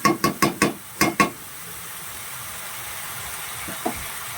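Fish, eggplant and potato curry stirred in a pan: six quick clattering scrapes of the spoon at the start, then a soft steady sizzle with one faint knock.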